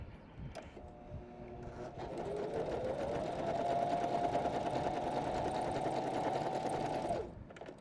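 A Janome 500 or 721 sewing machine runs a wide zigzag stitch, its motor winding up into a steady, fast whirring hum that holds for several seconds before cutting off, close and fairly quiet.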